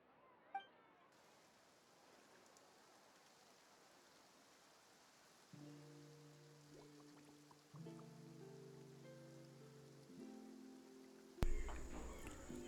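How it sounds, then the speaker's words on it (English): In Genshin Impact, rain falls in a soft, steady hiss throughout, joined partway by sustained tonal game music that grows louder toward the end, with a brief bright click near the start. "Looks like rain."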